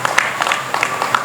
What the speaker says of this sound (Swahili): Tuwapigie makofi wakina mama.